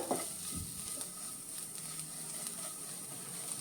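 Masala spices stirred and frying in a pan for Konkani egg masala, a soft continuous sizzle with a couple of scraping stirs near the start, close and fairly quiet.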